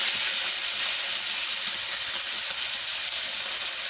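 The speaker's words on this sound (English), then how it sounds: "we'll continue to let that bacon fat render" Bacon fat renders in a pan for smothered pork chops, giving a steady, even sizzling hiss that runs unbroken throughout at close range with no voices.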